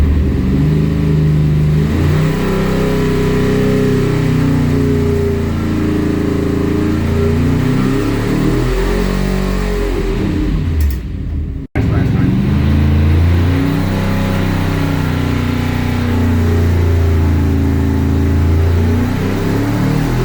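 A 498 cubic inch Chevy V8 for a '67 Chevelle with a race carburetor roars loudly on a dyno, holding a heavy rev, dipping briefly, then surging back; voices are heard over the engine.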